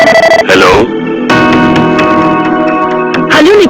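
A telephone rings in a cartoon scene, a loud electronic ring repeating in steady bursts, with brief voice sounds at the start and end.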